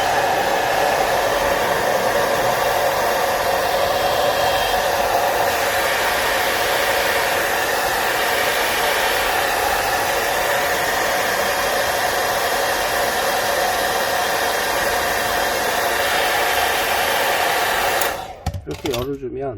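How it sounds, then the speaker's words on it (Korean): A hair dryer blows in a steady, loud whoosh for a long stretch, heating the adhesive on a Galaxy S20 Plus phone camera glass, then cuts off abruptly near the end. "그래서 드라이기로"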